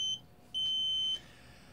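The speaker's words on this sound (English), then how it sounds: "And also the buzzer is buzzing." A buzzer on an Arduino laser sensor circuit sounds two electronic tones close by: a short beep, then a longer one lasting about half a second, over a quiet background.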